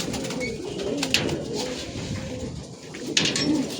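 Pigeons coo in a loft, with soft repeated throaty calls from several young male birds overlapping in a continuous murmur, close by, plus a couple of faint wing or perch knocks.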